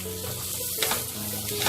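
Poppy seeds roast in a pan with a steady close sizzle and faint crackle, a brief stirring scrape partway through, and no talking.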